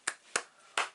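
Three quiet, separate hand claps spaced unevenly across a second, sharp and close with near-silence between them.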